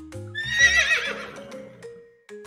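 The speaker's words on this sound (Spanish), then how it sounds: "Este es el sonido que hace el caballo." A horse neighs loudly and close, a long whinny that rises, wavers and fades over about two seconds, with a faint clop at the end.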